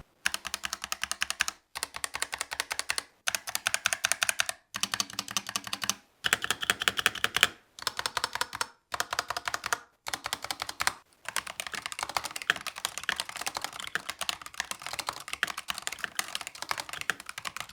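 Rapid clattering keystrokes on a Razer mechanical gaming keyboard, loud and close, typed in bursts separated by brief pauses, then a steady continuous run of typing.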